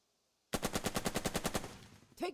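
A Sherman tank opens fire in the World War II strategy game Burden of Command: a rapid burst of about eleven sharp, evenly spaced automatic shots that trails off, followed by a short final crack.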